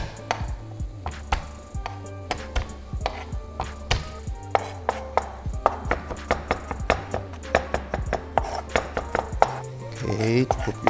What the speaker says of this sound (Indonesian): Oke, kita cincang kasar aja cukup.